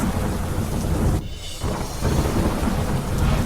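Monsoon rain pours down over Kheda district in Gujarat as a loud, dense roar, briefly dipping near the middle before resuming at full strength, with thunder rumbling low underneath.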